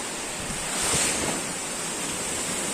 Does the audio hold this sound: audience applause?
no